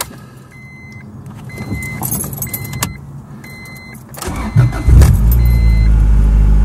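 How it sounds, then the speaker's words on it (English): Car started during coolant bleeding from cold: keys jangle and chime tones sound for several seconds, then the starter cranks and the engine catches into a loud, steady idle close by. "And then what we're going to do, we're going to start the car."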